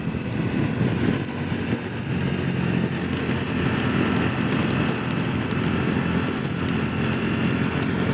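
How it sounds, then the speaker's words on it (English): A 2025 Triumph Scrambler 400X motorcycle rides in the rain, a steady broadband engine and road roar with wind and wet tyre noise, continuous and loud. "But yeah, test riding in the rain."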